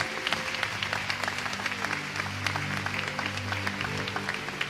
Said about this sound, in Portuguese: Recebam com muita salva de palmas.